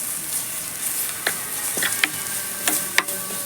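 Ginger garlic paste frying in a hot pan for a dhaba-style cauliflower dish, giving a steady bright sizzle with a few sharp crackles and spoon scrapes breaking through at intervals.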